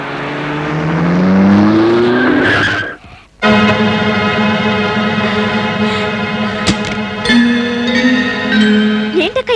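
A car arrives with a loud tire skid in the opening seconds, then sustained dramatic music tones carry on, cut by a brief gap and a few sharp hits.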